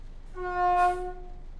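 A locomotive horn in the train simulator game Train Sim World 4 sounds one clear, steady blast of about a second, strong and close, swelling slightly in the middle before cutting off, with no talking.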